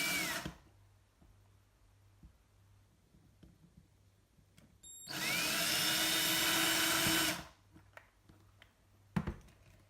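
A small drill bores pinholes for LED legs in a Hornby R083 buffer stop, with one sustained high whine of a couple of seconds and brief ticks and handling clicks around it in a quiet room.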